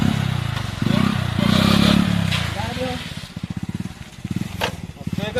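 A motorcycle engine runs at a low, uneven idle with pulsing throbs that rise and fall, sitting close beneath steady conversation between several voices.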